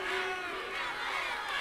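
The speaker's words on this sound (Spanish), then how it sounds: "Fuerte el aplauso." Festival crowd at the Fiesta Nacional de la Estepa Patagónica in Las Heras, Santa Cruz, a dense, steady roar of cheering voices at a live outdoor show, with no distinct claps standing out.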